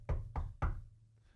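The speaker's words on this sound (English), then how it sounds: "someone's knocking at the door." Three sharp knocks on a door come close and loud in quick succession, with a brief gap before the last, then quiet.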